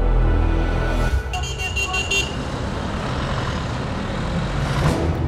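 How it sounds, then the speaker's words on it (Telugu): A bus pulls up at a stop with a loud low engine rumble, a brief burst of rattling and a hiss like air brakes, then a steady idling drone, nearby and with no voices. "పద బస్సు వచ్చేసింది"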